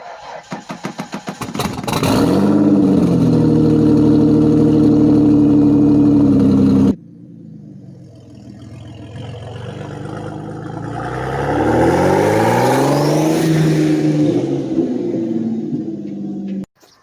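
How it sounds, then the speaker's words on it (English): A 2002 Ford Mustang cranks and fires into a loud, close, rumbling idle. After a short break the engine swells again and revs as the car rolls into a driveway. "Move the car over into the driveway"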